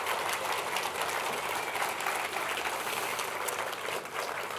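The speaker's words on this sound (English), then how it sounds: "Give them all a big round of applause." Audience applause at the KPMG Children's Books Ireland Awards ceremony in Dublin, a dense, continuous clatter of clapping hands held at a fairly loud, even level, with no voices over it.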